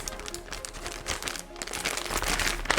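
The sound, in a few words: sealing a plastic bag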